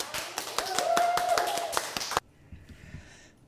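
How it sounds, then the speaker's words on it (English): Brief clapping from a small audience welcoming a speaker to a sea-tales storytelling event, a quick patter of hand claps that cuts off abruptly after about two seconds into near silence. "Please give a warm round of applause for Bonnie Obremski."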